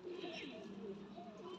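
Pure Rampuri pigeons with black tails coo faintly in low, rolling phrases, a brief quiet stretch of gentle bird calls close by.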